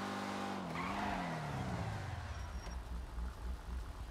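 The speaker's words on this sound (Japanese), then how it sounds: "このエンジンサウンドは実際 GT オンラインにありますかね" A modded car in GTA Online roars and skids, a loud engine swelling then dropping in pitch as tires squeal briefly, settling into a rough, low rumble.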